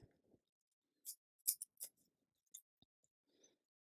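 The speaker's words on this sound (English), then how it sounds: "I need to cut off like a bit of foundation to cover the back of the stone" Scissors snip bead embroidery foundation in a few short, crisp cuts spaced apart, quiet and close, with faint handling sounds between them.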